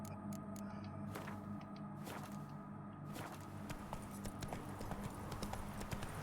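Geralt's horse Roach in The Witcher 3 trots along with a quick, even clip-clop of hooves, close and clear over a low ambient game background, without speech.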